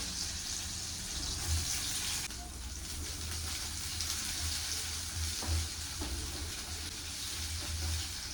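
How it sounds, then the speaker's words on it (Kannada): Ingredients for chicken chops go into hot oil in a pan, giving a steady close hiss of frying with a few faint knocks from utensils. "ಎಣ್ಣೆ ಕಾಯ್ದಿದೆ ಇದಕ್ಕೆ ಆವಾಗಲೇ ಏನೇನು ತಗೊಂಡಿದೆ ಅದನ್ನೆಲ್ಲ ಒನ್ ಬೈ ಒನ್ ಆ್ಯಡ್ ಮಾಡ್ತಾ ಹೋಗ್ತೀನಿ"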